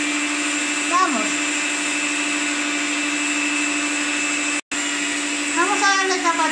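A kitchen blender whirs steadily through sponge cake batter for a Valentine's bizcocho, a loud continuous motor drone with one brief cut-out, while voices talk over it.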